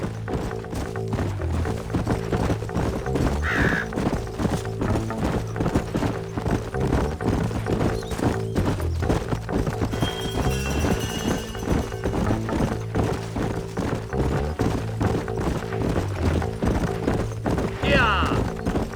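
Horse hooves clip-clopping in the Western video game Red Dead Redemption, a steady trotting rhythm under a continuous layer of game music and ambience, with a brief whinny-like sound near the end.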